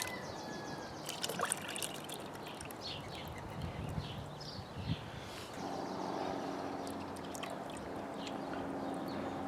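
A gold pan swirls water over fine gold concentrates, giving a continuous washing, sloshing noise with small splashes and knocks, fairly close and steady throughout, with no talking.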